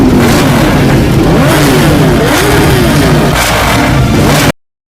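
A motorcycle fitted with an aftermarket exhaust revs loudly and close, its pitch rising and dropping in repeated blips before cutting off abruptly.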